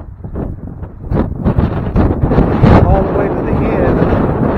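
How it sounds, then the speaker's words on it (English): Gusty wind buffets the microphone outdoors at Branson Cross in Branson, Missouri, a low continuous rumble that swells after the first second and stays loud while a person talks over it. "I'm so sorry about this wind."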